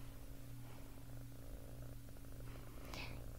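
Soft, steady purring from a neko catgirl character, a voice imitating a cat's continuous low rumble, close and quiet throughout with a brief breathy sound near the end.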